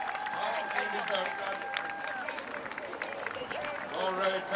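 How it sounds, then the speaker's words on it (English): Crowd applause along a river course for masters rowing crews passing at a head race regatta, a steady broadband wash of clapping from spectators lasting throughout, with a commentator's voice over the top. "they deserve a big round of applause"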